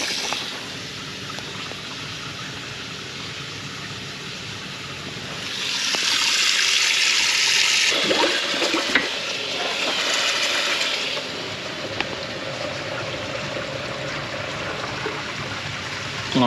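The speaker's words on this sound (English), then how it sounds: "Oh, still draining." Water draining from a newly installed sink, a continuous gurgling trickle with a louder rushing surge in the middle before it settles back to a steady flow.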